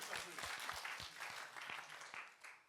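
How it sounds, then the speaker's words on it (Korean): Church congregation clapping for a young drummer from the worship team during a Sunday service, a steady patter of applause that holds across the clip with a few sharper claps standing out. "우리 정종환 군에게 박수 한번 내도록 하겠습니다"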